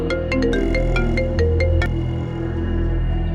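Mobile phone ringtone for an incoming call plays loud and alone, a repeating melodic electronic tune with steady rhythm and no talk over it.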